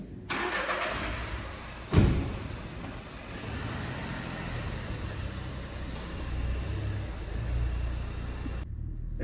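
A Volkswagen T-Cross 1.0 TSI engine fires with a sharp start, then settles into a steady, close idle hum that continues under a low rumble.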